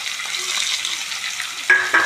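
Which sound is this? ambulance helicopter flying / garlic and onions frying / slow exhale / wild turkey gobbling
garlic and onions frying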